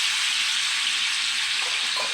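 Sausage fries in a pan with a steady, close, continuous sizzle and a bright hiss of spitting oil, with no voices.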